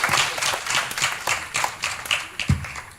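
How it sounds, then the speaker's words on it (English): A small audience applauds in a lecture hall at an international forum in Kaohsiung, a brief patter of clapping hands at moderate volume. "Let's give him a warm round of applause."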